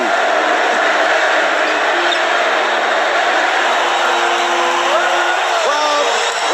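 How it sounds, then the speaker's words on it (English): A packed basketball arena crowd in Portland roars and cheers continuously for Larry Bird, a dense, loud wall of fan noise with whoops and rhythmic chanting rising near the end. "The crowd start cheering."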